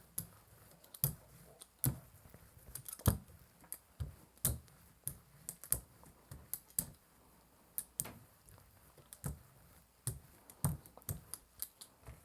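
Thin, soft deli-style paper is creased and folded by hand, giving sparse, crisp crackles and sharp snaps at an uneven pace, close and alone with no talking.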